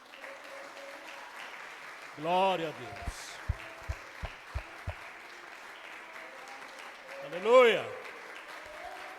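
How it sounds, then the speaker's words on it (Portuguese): Congregation applause at a Portuguese-language church teaching service, a steady wash of clapping running through the clip while a voice shouts praise over it, with a few sharp thumps in between. "Vamos aplaudir o Espírito Santo."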